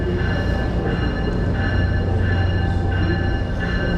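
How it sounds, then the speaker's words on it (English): Train pulling into Hoboken Terminal, a loud continuous low rumble with steady tonal hum and squeal from the rails, no voices. "Another train pulling in."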